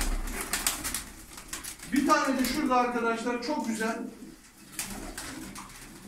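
Turkish tumbler pigeons coo in a low, wavering run of repeated notes near the middle, with someone talking over and around them.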